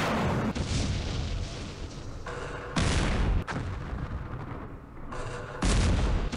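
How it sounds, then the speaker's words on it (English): Heavy gunfire from an anti-tank gun in the war game Campaign Series Middle East, a loud, dense run of booming shots that rises and falls in waves, with sharp bursts near the start, middle and end. "That sounds like an anti-tank gun"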